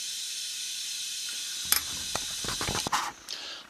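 Compressed air hisses steadily into a Studebaker engine cylinder during a valve stem seal replacement, with a series of sharp mechanical clicks and rattles joining partway through.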